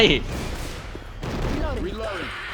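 Bursts of gunfire from the zombie shooter Left 4 Dead 2, a loud crack at the start followed by a rapid fusillade of shots, with voices talking over the action.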